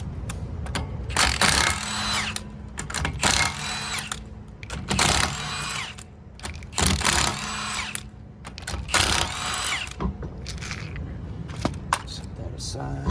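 Bursts of a power tool, likely an impact wrench, whir and rattle in repeated pulses, loosening lug nuts to remove a wheel from a 2015 Mazda 3 during rear brake work, close and loud with brief pauses between runs.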